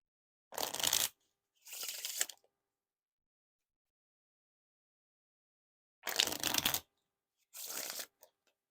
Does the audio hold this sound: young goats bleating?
no